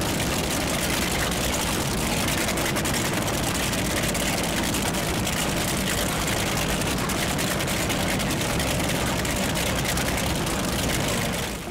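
A 38-foot Fountain center console powerboat running quad Mercury 400 Verado outboards makes a loud, dense, continuous engine roar mixed with rushing water and wind, with no break from start to finish.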